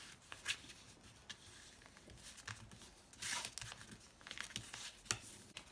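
Paper being folded into a no-glue flip pocket, with soft crinkling and rustling handling sounds that come and go, a few sharper crisp rustles near the end, close and fairly quiet.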